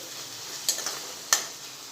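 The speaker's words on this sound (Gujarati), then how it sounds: "તો કાંદાને આપણે 2 મિનિટ સાતરી લઈશું।" Finely crushed onions for masala dosa sauté in a pan with a quiet background sizzle, broken by two sharp spatula clinks against the pan.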